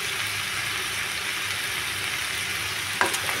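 Fried lentil bori paste and green chillies sizzle with mixed vegetables in a pan, a steady close frying hiss throughout, ending in a short clatter of stirring.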